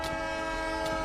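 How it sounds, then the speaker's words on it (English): A train in a Minecraft game modded with Create sounds a loud, sustained horn-like whistle with a steady tonal drone and rumbling low end, continuous for the full second, with no talking. "That train sound almost triggers me"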